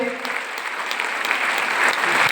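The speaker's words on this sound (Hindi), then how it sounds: "तो बजाइए जम के ताली" Steady, dense clapping from a meeting audience at a resort gathering, sustained and fairly close throughout the short stretch with no talk over it.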